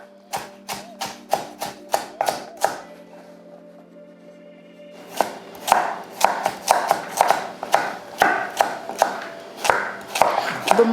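A knife chops vegetables for chicken soup on a board in quick, regular taps, a rapid run, a pause with a steady hum, then more uneven chopping, close and clear with no talk.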